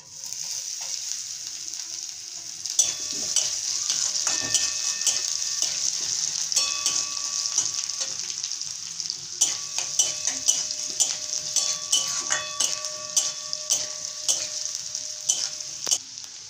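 Onion sizzles steadily in hot oil in a pan while a spoon scrapes and stirs it now and then, with clinks of the utensil against the metal; close and continuous, with no talk.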